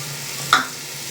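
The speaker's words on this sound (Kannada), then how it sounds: "ಇವಾಗ ತರಕಾರಿ ಕಟ್ ಮಾಡಿರೋದನ್ನ ಹಾಕೊಳ್ಳೋಣ." Beans, carrots and other cut vegetables go into hot masala oil for mushroom pulao, with a steady soft sizzle and a brief stirring scrape midway.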